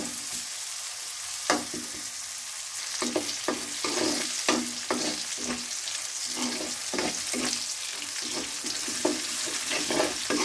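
Garlic and onion fry in mustard oil with a steady, close sizzle, broken by repeated scraping strokes of a spoon stirring the pan across the whole stretch.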